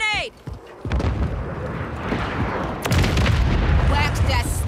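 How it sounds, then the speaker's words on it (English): Grenade explosion in Call of Duty Modern Warfare 3 team deathmatch on the Rio map, a loud booming blast followed by rumbling gunfire, with game voice callouts around it. "Throw a grenade!"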